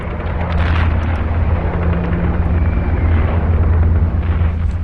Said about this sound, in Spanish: las primeras detonaciones de disparos y el tableteo de las ametralladoras